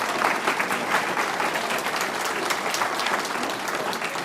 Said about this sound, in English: It's really weird to hear somebody clap for something you've written.